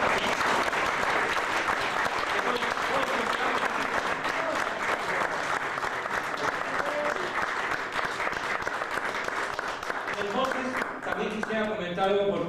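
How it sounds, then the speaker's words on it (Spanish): A large audience at a talk on Cuba–USA relations breaks into sustained, dense applause that holds steady and loud for about ten seconds before thinning out near the end. "Pueden aplaudir sin problema"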